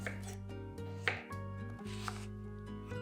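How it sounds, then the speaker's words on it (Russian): A knife cuts apples into small cubes on a board, a steady series of soft chopping knocks over continuous music, with no voices. "А яблоки нарезаю такими небольшими кубиками."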